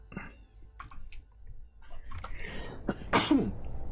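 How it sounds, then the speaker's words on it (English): A single sneeze, preceded by a few small breaths and rustles, sharp and close, during a session of playing Horizon Forbidden West. "I'm just gonna sneeze"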